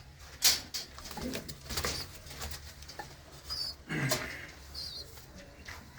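Pigeons in a loft give soft, intermittent coos and rustling movements nearby, fairly quiet, with brief louder flutters and scratches between calls.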